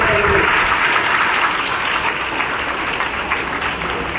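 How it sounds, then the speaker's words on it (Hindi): A crowd at an outdoor political gathering claps steadily to welcome guests onto the stage, dense and fairly loud applause that carries on throughout with a faint voice underneath. "तालियों के साथ उनका स्वागत करेंगे।"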